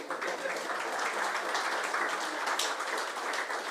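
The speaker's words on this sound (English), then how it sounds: "Give me a clap now, man" At a book launch for Firstborn in Jamaica, an audience gives a fairly faint, steady round of clapping that continues evenly throughout, heard from some distance.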